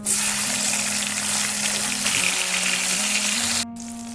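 Tomato dropped into a hot pan of oil with black cumin (kalo jeera), giving a steady, close sizzle and frying hiss throughout, briefly cutting out near the end, with no talking.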